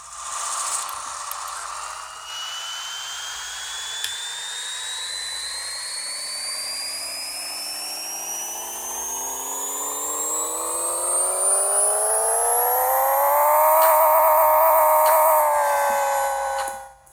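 Car engine in the video game Pixel Car Racer, running on a dyno and revving in one long sweep that climbs steadily in pitch to a high whine near the end, then cuts off abruptly, with no talking.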